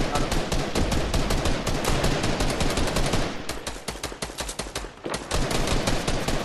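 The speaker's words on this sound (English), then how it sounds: "Oh, no, I'm shooting right now." Rapid automatic gunfire from a shooter video game hammers on almost continuously, loud and dense, with a short lull in the middle before the bursts resume.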